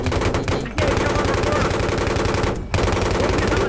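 Loud automatic gunfire from the video game Battlefield 3 rattles in rapid continuous bursts, broken by two brief gaps.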